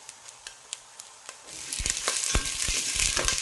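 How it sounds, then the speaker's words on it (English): Two onions added to heated oil for a spinach curry start to sizzle, building from scattered light ticks and taps into a steady, close frying hiss as they are stirred. "I've just put some oil in, just heat that, and then we're just going to add the 2 onions and just stir that in"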